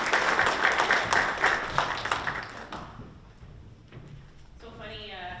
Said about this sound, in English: so small warm of applause for Jenny.